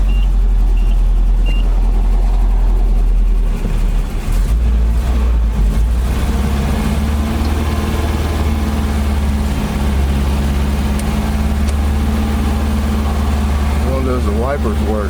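The engine of an abandoned 1982 Nissan 720 King Cab mini truck cranks and catches, then settles into a loud, rough idle close by while people talk.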